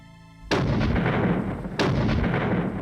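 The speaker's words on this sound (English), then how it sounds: "As Nelson attacked Calvi, a vigorous artillery duel was underway." Two heavy artillery blasts about a second apart, each a sudden loud boom trailing into a rumbling decay, with no talk.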